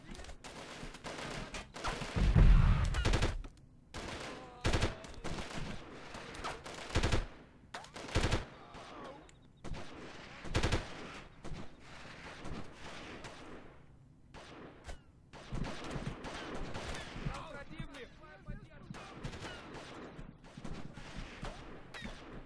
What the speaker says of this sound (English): Come on, they're shooting at us.